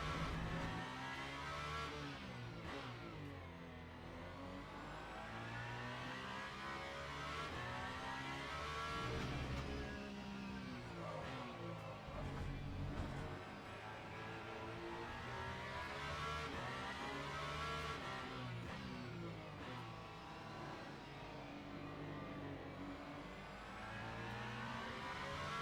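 Race car engines roar continuously in the Le Mans Ultimate game, revving up and down through gear changes with loud, dense, overlapping engine tones and no pauses.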